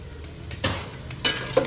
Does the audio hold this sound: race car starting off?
no